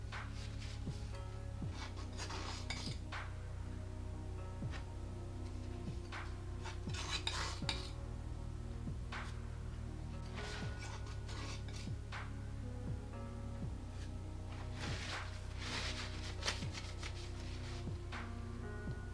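A palette knife mixes oil paint on a palette, giving repeated soft scraping and tapping strokes with light metallic clicks, close and quiet, at an irregular working rhythm with no talk.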